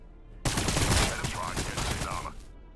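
Gunfire in Warhammer 40,000: Battlesector, Necron versus Astra Militarum armies: a dense burst of rapid shots fills a couple of seconds, loud and crackling, then cuts off.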